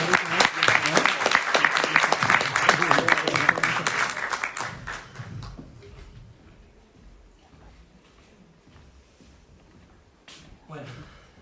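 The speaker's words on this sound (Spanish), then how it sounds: "Un aplauso, por favor" Audience applause at a book launch, a burst of clapping from a modest crowd that swells briefly then tapers off after a few seconds into scattered claps and room noise, with a voice starting afterward.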